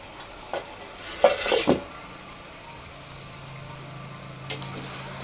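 A spatula scrapes and stirs chicken feet frying in a pan, giving a few close, loud scraping strokes over a low steady sizzle, with one more brief scrape near the end and no talking.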